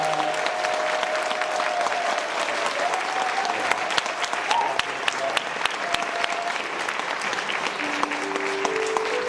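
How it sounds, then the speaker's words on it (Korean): A standing church congregation applauds warmly at an anniversary thanksgiving and ordination service, sustained dense clapping with sharp individual claps standing out, steady and loud across the whole stretch, with faint voices or music beneath. "여러분 뜨겁게 박수로 축복합니다"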